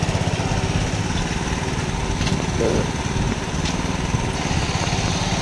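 A 7.5 HP diesel power weeder engine runs steadily up close, giving a loud, rough, continuous chugging throb with no pauses.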